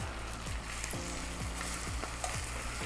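Thin strips of pork liver fry in a pan, giving a steady, close sizzle with occasional stirring scrapes and no talking.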